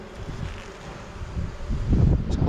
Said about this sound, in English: As you can see, lots of bees on there.